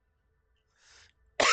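A single sharp cough during a gameplay session, close and loud, after a faint breathy sound and near silence.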